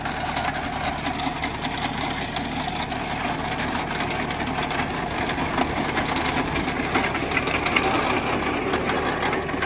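Steady, loud mechanical rumble of an old potato picker driven by a tractor's PTO, with constant clattering and vibration throughout and no pauses.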